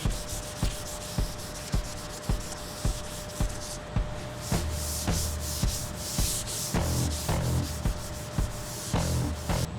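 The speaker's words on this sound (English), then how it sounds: "we're going to hit it with some foam back 400 grit to get rid of our 320 scratches" Fiberglass car hood being sanded by hand with foam-backed 400 grit sandpaper, close rhythmic back-and-forth scratching strokes repeating at a steady pace, with no voices.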